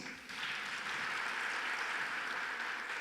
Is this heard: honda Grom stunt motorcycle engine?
no